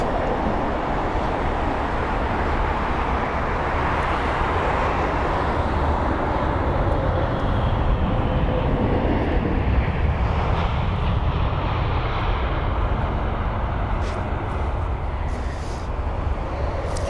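Boeing 787 at London Heathrow near runway 27 right, a broad continuous jet engine rumble and hiss, loud and steady throughout with no speech.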